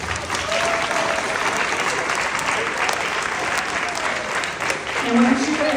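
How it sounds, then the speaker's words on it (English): Audience applause at an orchestra medals presentation, sustained clapping from a crowd filling the whole stretch, with faint voices underneath near the end. "Let's give them a round of applause."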